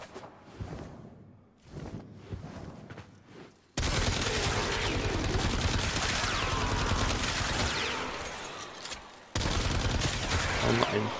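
Rapid automatic bursts from the Aeolak assault rifle in Warframe, long sustained strings of close, loud gunfire broken by a short pause, following quieter scattered shots at the start.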